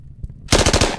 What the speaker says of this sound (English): Taking the shot.